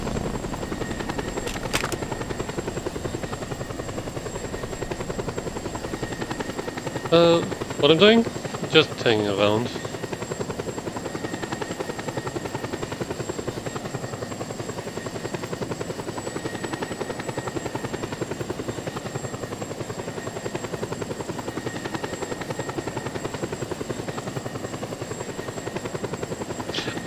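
A helicopter in the video game Just Cause 2 drones steadily from start to finish. Someone speaks briefly over it, and a short burst of louder game noise cuts in near the middle.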